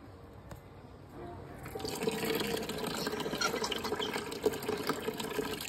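Water from a tap fed from the rooftop gushes and splashes steadily once it is switched on, starting faint and becoming loud and continuous, with a voice briefly audible in the background.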